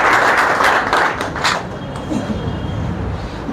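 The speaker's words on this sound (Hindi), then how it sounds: "तो चलिए एक बार थोड़ा उनके लिए ताली बजाइए," An audience claps for Vivek ji, a guest at a talk on police sub-inspector exam strategy: a full round of applause is strongest at first, then fades into a thinner, softer patter.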